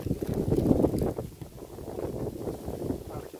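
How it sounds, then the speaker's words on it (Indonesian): Strong wind buffeting a microphone outdoors at a fishing spot in Karawang, heavy low rumbling gusts that swell and ease across the clip without voices. "anginnya kencang sekali."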